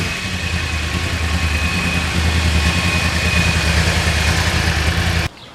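A 2020 Yamaha R1 crossplane motorcycle engine idles steadily and close by with a deep, even rumble, holding constant for about five seconds before cutting off abruptly near the end.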